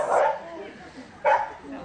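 A small Pomeranian Chihuahua mix, nearly two years old, gives two short yapping barks about a second apart, close and moderately loud, with talk around it.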